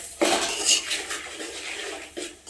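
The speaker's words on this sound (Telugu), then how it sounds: "ఒక స్పూను మసాలా పొడి వేసుకోవాలి. ఇప్పుడు కలుపుకోవాలి." A spoon stirs bitter gourd fry with masala powder in a cooking pan, producing scraping metal-on-pan clatter in a few close strokes with short, sharp knocks.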